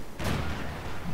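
A single mortar shot in Company of Heroes 2, a deep muffled thump with a broad rumbling tail that lingers over a low battlefield backdrop.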